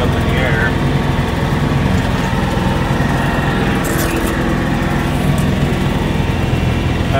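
A John Deere 506 brush hog runs steadily with a dense, continuous engine and blade drone, loud and close throughout with faint vibration.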